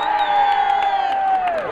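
A festival crowd at a Puerto Rican Boricua festival in Brooklyn, New York, cheers loudly with a sustained held shout over it, lasting under two seconds.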